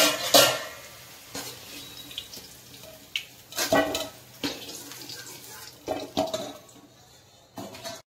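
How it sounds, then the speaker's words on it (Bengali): Raw banana being washed in water with turmeric, splashy bursts of water and handling noises coming in irregular clumps, close by, with quieter gaps between. "কাঁচা কলাটা হলুদ মেখে ধুয়ে নেব"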